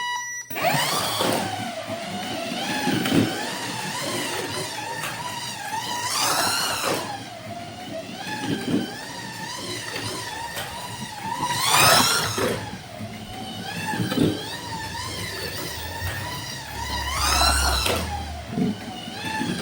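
A Scalextric Ferrari 330 P4 1/32 scale slot car whines around the track, its motor pitch rising and falling in repeated loud sweeps as it laps close by and passes.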